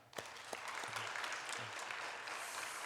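A church congregation at a lay leaders' seminar service claps together, the applause starting with a few distinct claps and swelling into a soft, steady patter.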